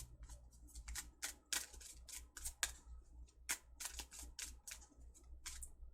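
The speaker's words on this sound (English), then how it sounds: "let me do a shuffle" Tarot cards are shuffled by hand in a quiet room, producing a run of crisp, irregular riffling snaps and clicks close up over a low background hum.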